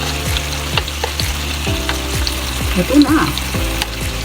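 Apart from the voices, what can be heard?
Korean bulgogi frying and being stirred in pan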